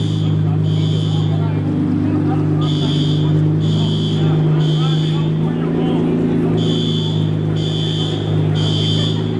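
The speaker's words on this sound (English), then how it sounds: "So that's a BMW M4 GT4 race car." Deep, droning BMW M4 GT4 race car engine with straight pipes idling loudly and steadily up close, while a separate high electronic beeping pulses on and off in regular bursts.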